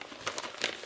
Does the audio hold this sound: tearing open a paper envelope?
yes